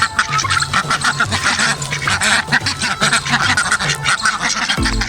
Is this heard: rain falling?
no